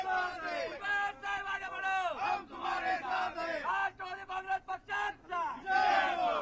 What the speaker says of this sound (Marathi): लगेचच नाशिकमध्ये जल्लोष बघायला मिळतोय।